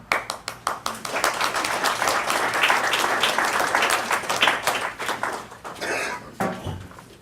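Audience applause at a homelessness speakers' bureau event at Community Grounds in Metro Atlanta, a loud, dense crowd of clapping filling the room for several seconds with sharp individual claps, a cough or two, and a few clinks near the end.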